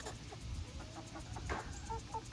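Farmyard chickens cluck in a loud, busy chatter of short calls close by, with no talk over them.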